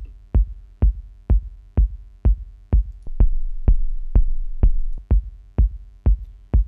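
Techno kick drum thumping at a steady four-on-the-floor pace, deep and boomy with a heavy low rumble and muddy low mids smearing between hits, close and loud with no voices.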